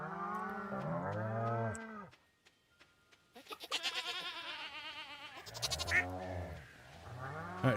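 A cow in the farming video game Stardew Valley lets out long, low moos, with a short quiet gap and pulsing bleat-like calls between them, loud and close with no talking.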